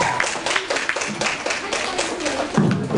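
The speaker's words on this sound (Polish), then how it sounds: "Brawa dla waszego zespołu." An audience applauds a student team after their business presentation at a meeting in Wrocław. The clapping is a continuous, fairly close patter for about three seconds, with voices mixed in.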